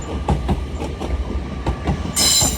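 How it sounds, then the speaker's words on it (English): An LNER Azuma train arrives at Doncaster station on the East Coast Main Line, with rhythmic wheel clatter over rail joints, close and loud, ending in a bright high-pitched squeal of wheels or brakes. "Arriving now is the delayed 11:15 LNER Azuma service to Leeds from London King's Cross"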